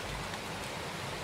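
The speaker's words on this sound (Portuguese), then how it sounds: "Tá chovendo demais" Heavy rain pouring down in a dense, steady hiss, loud and close, with no voices over it.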